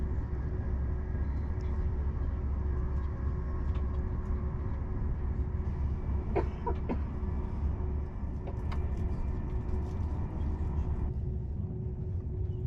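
Train running through the Wallonia countryside in December, a steady low rumble with a constant hum tone, a few brief squeals and clicks, and no talk.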